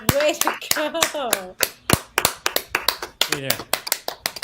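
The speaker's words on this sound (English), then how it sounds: "We just keep clapping until you get the headphones on." A group keeps up steady, fairly close hand-clapping that settles into a regular beat, with voices chattering over the first part.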